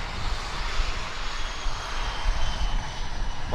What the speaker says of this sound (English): Mike Victor Oscar finally started up engine number 2.